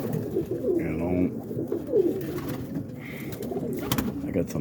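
Pet pigeons coo softly at close range, low throaty calls repeating in a busy mix of bird sounds, with a few higher chirps breaking through now and then.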